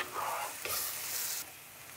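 Octopus frying hard in a pan on high heat, a loud steady sizzle with stirring bursts, alone with no talk, fading slightly near the end.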